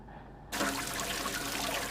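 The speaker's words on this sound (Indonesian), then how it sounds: "dari kamar mandi, aku mendengar air keran itu masih menyala" Water bursts on from a tap in a house bathroom, a sudden steady rushing stream that continues loud and unbroken after a brief quiet start.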